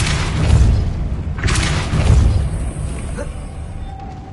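Depulso spell blasts in a Hogwarts video game: a few heavy, booming thumps in close succession, followed by quieter magical ringing and a faint sustained tone as the rumble fades.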